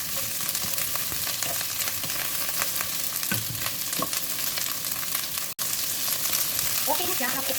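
Vegetables sautéing in a pan, cooked to half done: a loud, dense and continuous sizzle close by, broken by occasional scraping stirs and brief clinks, with no talking.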